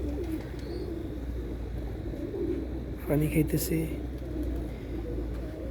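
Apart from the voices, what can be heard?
pigeons cooing while eating and drinking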